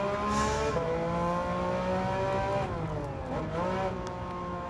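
Racing car engine in Gran Turismo 7 on PS5 with PSVR2, a rear-wheel-drive car, droning steadily and loudly with shifting pitch as it revs up and drops back, continuous throughout.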